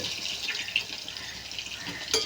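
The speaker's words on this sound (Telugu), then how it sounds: "ఇవి కొంచెం కొంచెంగా అయితే ఫ్రై చేసుకుని తీసుకుంటున్నానండి" Soya chunks (meal maker) fry in a pan in small batches with a continuous bright sizzle and crackle, close and moderately loud, with a sharper pop near the end.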